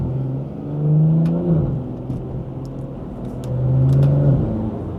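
A Stage 2 tuned BMW B58 engine revs through its exhaust on a daytime drive, a deep droning rumble that swells twice in loud, close bursts under a steady cabin hum.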